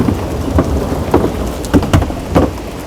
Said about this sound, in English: Ooh, it's lightning, y'all. It's lightning.